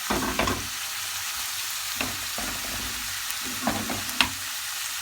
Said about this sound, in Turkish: Baharatlarımı da, tuzunu, baharatımı biraz kavuracağım.